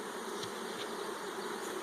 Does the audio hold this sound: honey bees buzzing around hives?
yes